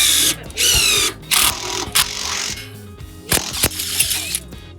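An impact driver fitted with a freshly sharpened general-purpose steel drill bit bores into stainless steel, giving loud, close bursts of whining, rattling drilling broken by short pauses, with faint voices in the background.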